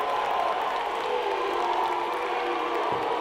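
Basketball fans at a Heritage Generals versus Calhoun Yellow Jackets boys region championship game cheer, whoop and applaud, a loud, steady crowd roar filling the gym throughout.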